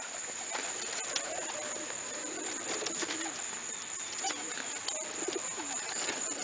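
Soft pigeon cooing drifts through a steady outdoor hiss, with faint scattered bird calls in the background and no one speaking.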